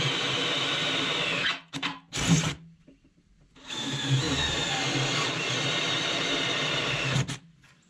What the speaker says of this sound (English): Should be able to take this and make some 1/4 inch pilot holes.